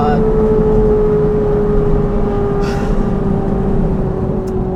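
A straight-piped Ferrari 458 engine holds a steady, loud idle rumble with a constant low drone and faint higher whine, close and continuous without revving.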